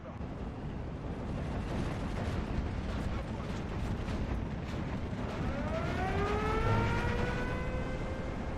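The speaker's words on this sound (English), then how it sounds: "nice off map coming down there" Off-map artillery strikes land in the video game Steel Division 2 with a sustained, loud rumble of explosions and battlefield noise. Descending whistling shells sweep in near the end.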